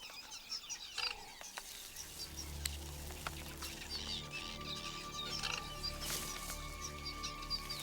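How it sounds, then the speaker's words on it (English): A noisy breeding colony of small African birds, a dense, continuous chorus of chattering calls and chirps with several brief louder notes standing out, steady throughout and heard without voices. "the noisy colony still attracts unwelcome attention"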